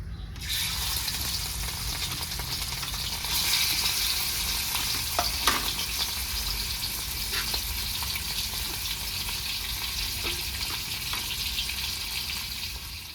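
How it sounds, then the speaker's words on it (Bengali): Fish sizzling in hot oil, a steady crackling hiss that grows louder after a few seconds, with occasional light clicks of a utensil. "আর একটু তেল দিয়ে দেবো। মাছটা ভেজে নেবে, দিয়ে দেবো মাছ।"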